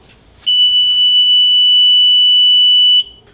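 At alarm duration setting 3, a Uniview USS-SC100A-TM-O metal detection gate emits a loud, unbroken high-pitched alarm tone that holds for about two and a half seconds before cutting off abruptly, with no voices.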